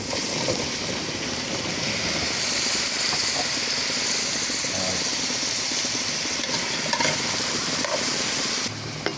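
Onion, garlic and squash sauté in a pan, giving a steady, loud, close sizzle with faint stirring scrapes throughout and no talk.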